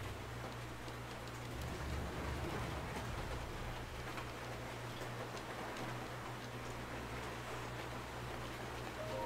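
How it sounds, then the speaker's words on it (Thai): Rain falling in The Legend of Zelda: Breath of the Wild makes a faint, steady patter with small tick-like drops over a low background hum, unchanging throughout. "ใช่ฝนตกฝนตกครับ"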